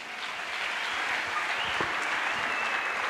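Crowd applause and acclaim at an evangelical church crusade, a steady dense wash of clapping and cheering held throughout at even loudness.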